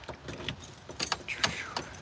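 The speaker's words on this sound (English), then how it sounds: "All my keys look the same." A ring of keys jangles and clinks in a few quick metallic bursts, close by, over faint background rumble in a skateboard workshop.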